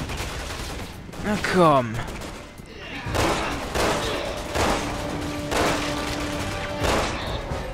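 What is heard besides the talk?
gunfire in the video game Resident Evil 6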